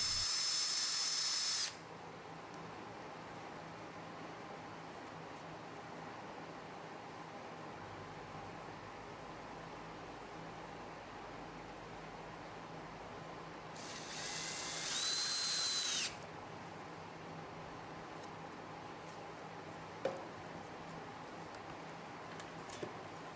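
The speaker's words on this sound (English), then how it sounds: "Drill 7 64-inch pilot holes and attach the terminal post cap to the panel box." A power drill whines in two short bursts while drilling 7/64-inch pilot holes in a battery box panel, one at the start and another later, separated by a long stretch of quiet background hiss.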